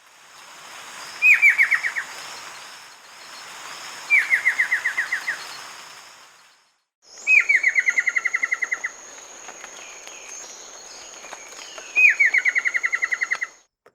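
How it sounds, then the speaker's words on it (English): Streak-chested antpitta alarm calls, four separate bursts that open with a sharp note and run into a quick descending chipping trill, clear and close over a steady hiss of background insects. "And they also make several calls like a chipping,"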